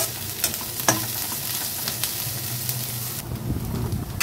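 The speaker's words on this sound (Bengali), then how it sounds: "এখন চিংড়ি মাছটাকেও একটু পেঁয়াজ রসুনের সাথে খুব ভালো করে ভেজে নেব।" Shrimp frying with onion and garlic in a pan while teasel gourd is being prepared, with a steady close sizzle broken by sharp stirring scrapes and clicks, loud and without talk.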